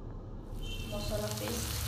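Halved small green chilies hit hot oil in a pan for an Assamese pork curry, giving a steady close sizzle that swells slightly as they fry, with no talking over it.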